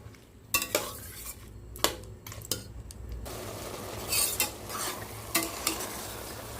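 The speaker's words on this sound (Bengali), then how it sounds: "সবজি আর ডাল আমার প্রায় ভাজা ভাজা হয়ে এসেছে।" Vegetables and lentils for mango khichuri fry in a pan with a soft, steady sizzle, while a spoon repeatedly knocks and scrapes against the metal, close by with no speech.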